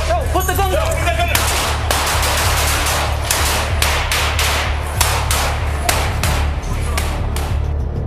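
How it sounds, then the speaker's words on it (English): Rapid bursts of gunfire crack over a heavy low rumble, shots coming in quick irregular volleys throughout, loud and close. "the suspect suddenly drew a gun and unleashed gunfire"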